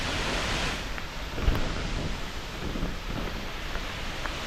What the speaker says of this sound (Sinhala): මෙන්න තියෙනවා සුන්දර පීස්සැල්ල